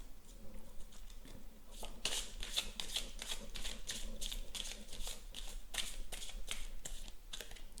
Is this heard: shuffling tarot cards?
yes